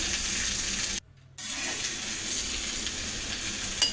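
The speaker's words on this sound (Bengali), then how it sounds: "আবার একটু নাড়িয়ে চাড়িয়ে নিলাম।" Vegetable stalks sizzle loudly in a frying pan as they are stirred, a steady close hiss broken by a short pause, with faint scraping of the spatula and no voices.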